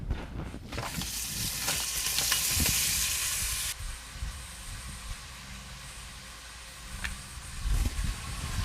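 Cheese steak ingredients are dumped into a hot pan and burst into loud sizzling, a bright hiss that settles into quieter frying crackle, with scraping and stirring sounds near the end.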